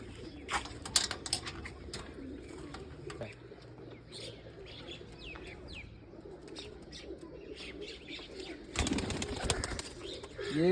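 A brood of about five young pigeons coos and chirps softly nearby, with scattered wing flutters and rustling, ending in a louder burst of flapping.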